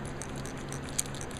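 A zipper pull rattles on a paintball gear bag, making a faint quick metallic jingle that repeats in a light rhythm, close by with no talk.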